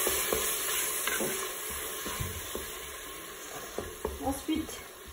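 Tomato and garlic cloves stirred in a Cookeo multicooker, with a low sizzle under scattered scrapes and knocks of the utensil against the pot, close and moderately quiet, with a few louder clicks near the end.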